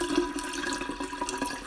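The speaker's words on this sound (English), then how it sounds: "And then, I pour my filtered water into it." Filtered water pours steadily into a glass bottle, a continuous close trickle and splash with small gurgles, no voices.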